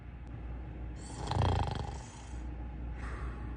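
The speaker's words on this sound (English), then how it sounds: "Now you're snoring." A person snores in bed, one long rumbling, nasal inhale swelling loud in the middle and fading, set against a quiet steady room hum.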